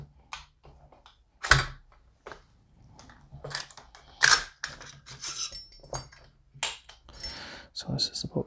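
An LWRC IC DI 5.56 rifle being taken apart by hand: scattered sharp metallic clacks and clicks, a few loud and close, separated by quiet pauses.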